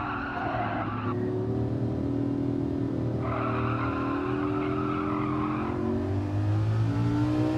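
A Lamborghini Huracan driven hard around a race track, its engine droning steadily while tires squeal in two long bursts as the oversteering car slides through corners.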